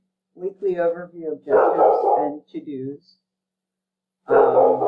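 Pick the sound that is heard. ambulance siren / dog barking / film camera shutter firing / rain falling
dog barking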